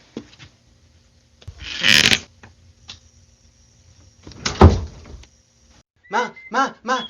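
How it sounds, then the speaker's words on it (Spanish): A door creaks and thuds open nearby amid scattered rustling and clunks, followed by a few short voiced sounds at the end, a sound effect in a spoken story. "Sonido, puerta que se abre."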